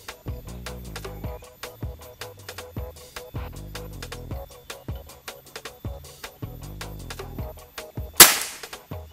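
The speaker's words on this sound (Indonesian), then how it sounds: "Terakhir ya, tembakan yang ke-10." A single sharp air rifle shot from a Black Monkey 360 cc PCP rings out near the end, the last of a ten-shot string, after a run of rhythmic clicking and mechanical ticking.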